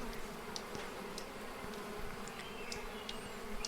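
Bees hum steadily in the Apico beekeeping game, a constant low drone with faint higher ticks and tones scattered over it, heard alone without talk.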